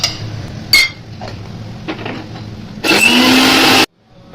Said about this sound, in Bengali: এখন পোস্তটা আমরা মিক্সিতে আমরা একটু কিছুক্ষণ মিক্স করে নেব।